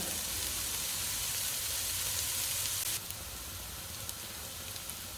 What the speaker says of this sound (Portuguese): Importante a gente não mexer com demasia esse mirepoix com carne, porque a gente quer dourar.